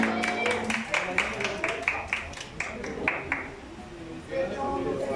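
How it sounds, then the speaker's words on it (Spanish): Applause from a mariachi concert audience, a run of sharp claps rising and thinning over a few seconds with voices over it, moderately distant and fading toward the end. "ese aplauso bien bonito,"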